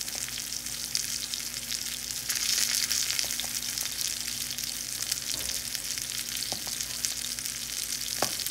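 Salmon frying skin-side down in a pan, a close, constant crackling sizzle with a few soft clicks, and no voices.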